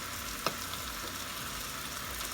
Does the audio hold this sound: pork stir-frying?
yes